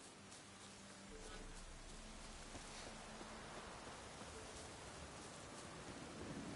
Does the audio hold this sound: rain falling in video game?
yes